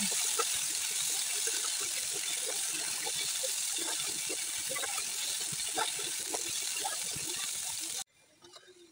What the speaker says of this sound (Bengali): এখন আমি এর মধ্যে ছোট আলুগুলোকে দিয়ে দিব।